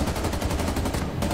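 Rapid bursts of video game gunfire from a round of a tactical shooter, loud and continuous with a clipped, repeating rhythm that fills the short stretch, with no talk over it.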